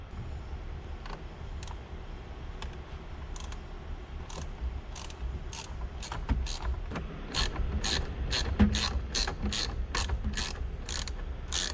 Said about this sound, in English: Now we're gonna use a bit, a star bit, like this, and remove these two bolts.